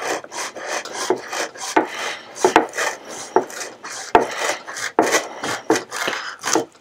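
A knife saws through a length of rope in a steady series of short, rasping strokes, close and fairly loud, with brief pauses between cuts.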